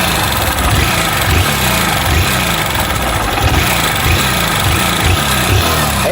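A 160cc motorcycle engine with a worn cylinder kit runs loud and close, a harsh rattling, clattering mechanical roar with rhythmic knocking pulses and no talk over it.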